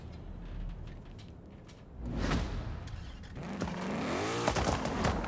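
A Ford Mustang drag car in Forza Horizon 5 revs up and accelerates, its engine pitch climbing in rising sweeps with a whoosh and some tire noise, growing louder toward the end.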